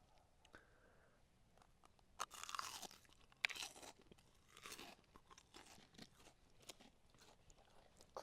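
Crispy frozen fish sticks crunch in a series of close, loud, crackling bites with chewing in between, some bites sharper than others, with no talking.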